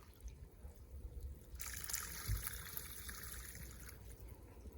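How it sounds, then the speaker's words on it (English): Water is tipped from a bucket onto a Nokia C01 Plus phone, a short splashing pour that starts partway through and fades after about two seconds, quiet and close. "I'm going to go ahead and tip the water from the bucket."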